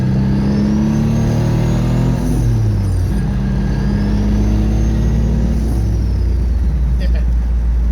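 A freshly built car driving under part throttle, its engine droning steadily with pitch rising and falling through gear changes, loud and close, with a voice talking over it.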